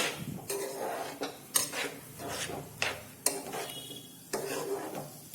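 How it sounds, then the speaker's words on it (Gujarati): A utensil stirs and scrapes a chickpea flour mixture in a pan over a medium gas flame, giving repeated rubbing strokes and occasional metallic clinks, close and fairly quiet with no talking. "આ રીતે તેને હલાવશું"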